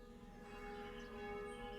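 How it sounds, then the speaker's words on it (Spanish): Church bells of the Royal Monastery of Our Lady of Guadalupe ring in the distance, carried on the wind as a faint, steady wash of sustained ringing tones with no voices. "El viento transporta el repicar de las campanas, procedentes del Real Monasterio de Nuestra Señora de Guadalupe"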